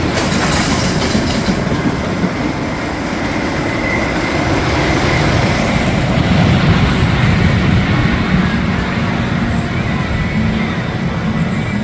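Thunderhawk, a wooden roller coaster, sends its single train rumbling along the track with a loud, continuous roar and rattling clatter that swells and settles over several seconds, heard from nearby without talk.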